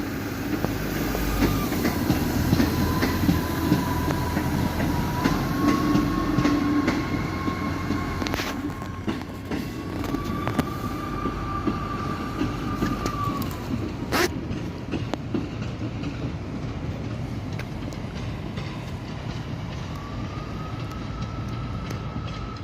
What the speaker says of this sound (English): This is the last train of the video.